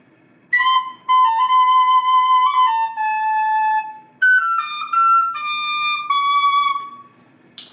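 A solo tin whistle plays the intro melody of a folk-metal tune, with clear sustained notes in two phrases separated by a short pause, close and alone.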